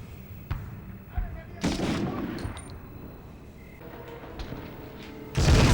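Machine gun fire in the 1999 PlayStation game Medal of Honor: a loud, sustained burst of shots about a second long, scattered thumps and shots, then another harsh burst erupting at the end.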